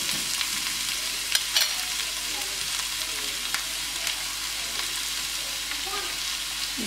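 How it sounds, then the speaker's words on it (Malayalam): Sliced onions with a pinch of salt sizzle in a pan, a continuous close frying hiss broken by occasional scraping stir clicks, with no talking. "ഉള്ളി നന്നായിട്ട് വാടണം. നമുക്ക് കുറച്ച് ഉപ്പിട്ട് കൊടുക്കാം."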